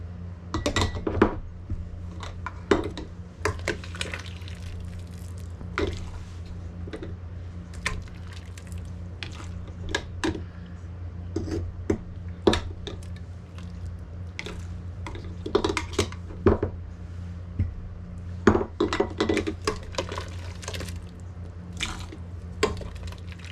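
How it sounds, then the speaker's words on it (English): Peppers being packed into glass canning jars for home food preservation, heard as scattered soft squishes, clinks and wet drips against a steady low hum, with no talk. "So what I'm just gonna do is fill the jars first with the peppers."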